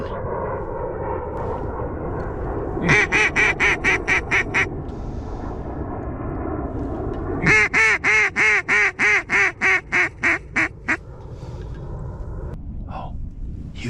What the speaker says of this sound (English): huge bunch of ducks coming.